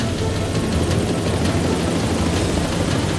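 A helicopter drones steadily overhead, its rotor thumping in a continuous loud wash with no pauses or voices.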